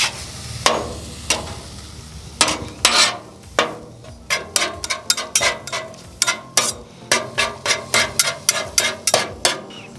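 Metal spatula scrapes and chops chicken cheesesteak meat on a Camp Chef griddle, a fast run of sharp, close clacks and scrapes that quickens into a steady rhythm over a low sizzle.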